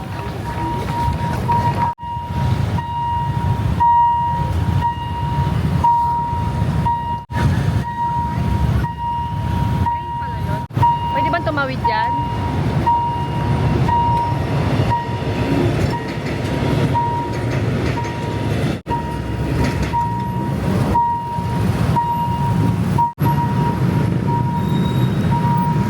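Urban rail MRT or BTS train in Thailand running on its rails, heard from onboard as a loud continuous rumble with rhythmic clacks over joints, a steady tone and a brief squeal midway.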